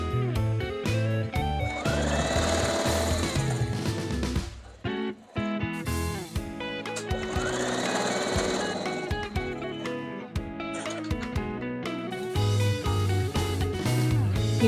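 A sewing machine stitches quilt fabric in quick bursts of tacking stitches, its motor buzzing loud and close with brief pauses between runs.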